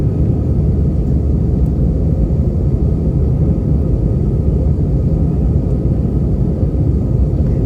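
Steady, loud low-frequency cabin roar of an airliner in flight on a trip from McAllen, Texas to Las Vegas, a constant droning rumble with no voices.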